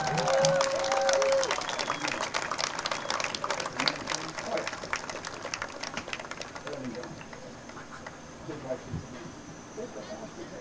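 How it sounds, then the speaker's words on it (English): A crowd at an outdoor high school girls' soccer game claps for two Connellsville seniors. The clapping is faint and distant, dies away over several seconds, and an announcer's voice carries over it. "Please give them a big round of applause."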